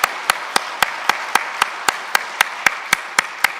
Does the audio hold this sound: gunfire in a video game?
no